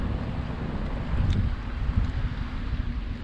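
Wind buffets a microphone while fishing from a boat, a low rumbling roar with gusty swells and a brief stronger blast, steady and close with no talk.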